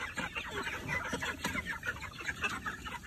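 Several Freedom Ranger meat chickens, about eight weeks old, cluck and murmur in a busy, overlapping chorus, close by and moderately loud, with soft chirpy calls throughout.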